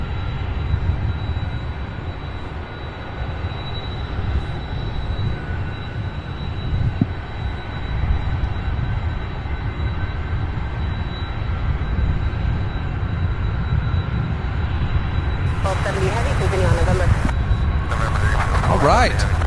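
An airplane landing at SDF airport gives a steady, continuous engine roar that holds level throughout, with air-traffic radio and voices talking over it.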